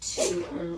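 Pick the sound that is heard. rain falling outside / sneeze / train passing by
sneeze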